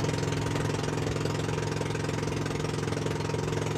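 Boat engine running steadily at sea, a constant droning chug with a fast even pulse, close and loud with no talk.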